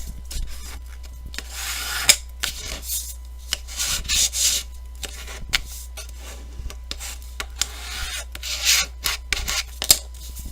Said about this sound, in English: I'm just going to grab my burnishing tool, which is my Pampered Chef scraper